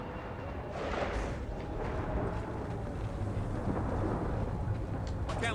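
A thunderstorm in Gears of War 4: a continuous deep rumble with roaring wind and rain-like noise, steady and loud throughout, with no voices over it.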